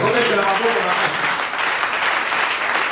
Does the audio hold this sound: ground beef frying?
no